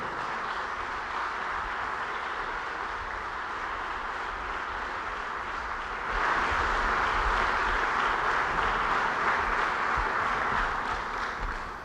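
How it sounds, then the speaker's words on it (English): An audience applauds to welcome Mayor Lovely Warren at a public event with Governor Cuomo, producing a steady wash of clapping that swells louder halfway through and continues without talk. "Let's give him another big round of applause."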